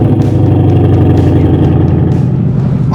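A 2020 Shelby GT500 with dual rate springs and a blue and white wrap drives along, its engine giving a steady, loud, low rumble that holds throughout with no talking.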